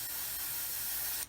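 Aerosol spray paint in an aluminium finish hisses steadily onto plastic parts of a 1/144 Roden C-141B Starlifter model kit, one continuous close burst that cuts off sharply at the end.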